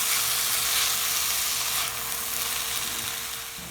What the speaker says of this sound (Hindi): हम इसमें सोया सॉस ऐड करेंगे और इसे थोड़ी देर फ्राई करेंगे।